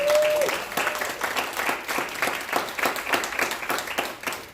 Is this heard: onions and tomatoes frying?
no